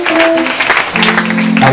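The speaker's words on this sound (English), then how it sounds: "Clap for Master Jesus" A church congregation claps in praise, a dense spread of hand claps under a sustained voice or tonal sound, loud and close, lasting under two seconds.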